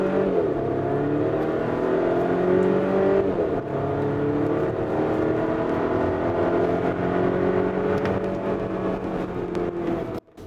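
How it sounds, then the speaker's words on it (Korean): A Volvo XC40 B4 AWD accelerates hard to 100 km/h, its engine note rising in pitch through a couple of gear changes, loud and continuous inside the cabin with no talking. "이렇게 시속 100km 가속 시간과 거리 측정해 봤습니다"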